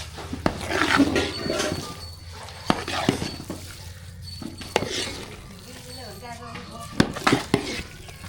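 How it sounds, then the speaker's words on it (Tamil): A spoon stirs tempering into pongal in a pot, giving soft scraping and clinking knocks at an uneven pace over a faint sizzle, close by and moderately quiet, with occasional talk. "தாளிப்பு சேர்த்தாச்சு நல்லா கலந்து விட்டுக்கலாம்"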